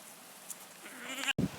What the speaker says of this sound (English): I was told the sheep would come and join me, so here they are.